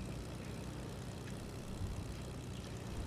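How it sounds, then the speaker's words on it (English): Plane engine droning while flying in Fortnite, a constant low propeller rumble holding steady throughout, fairly quiet with no speech. "this is amazing driving planes"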